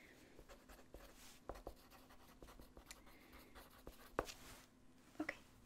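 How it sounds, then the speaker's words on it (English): A pen scratching notes on paper, soft and close, with light irregular strokes and a few sharper taps in a quiet room, no talk. "Let me just write that down."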